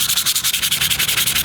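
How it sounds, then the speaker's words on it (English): A metal garden trowel is sanded by hand in quick back-and-forth strokes, giving a loud, close, rhythmic rasping that repeats about ten times a second with no talk. "I'm gonna do a quick sanding, finish this up"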